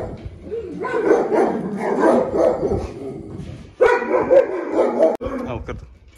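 Dogs in a fenced backyard enclosure at a house bark repeatedly, loud and close, in steady bursts that break off briefly near the end, with no talking over them.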